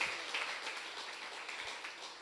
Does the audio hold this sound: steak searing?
no